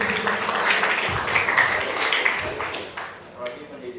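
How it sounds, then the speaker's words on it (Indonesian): Audience clapping for a student at a university public lecture on bearings, a moderate round of applause lasting a few seconds before fading, with voices over it. "tepuk tangan untuk rekan Muhammad Yusuf"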